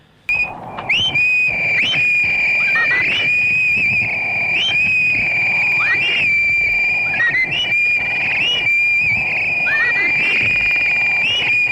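A shrill, sustained whistle from the Turkish Star Wars film holds one piercing tone with brief wavering slides, loud and continuous, layered over rumbling background noise and scattered clatter.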